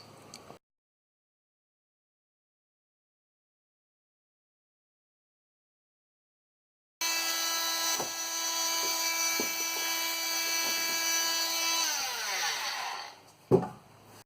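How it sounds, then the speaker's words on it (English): A power drill bores through the inside wall of a 1966 Viscount Ambassador caravan for a fridge vent. After a long silence, a loud, steady whining grind runs for several seconds, then winds down with a clunk. "now that I've drilled the inside"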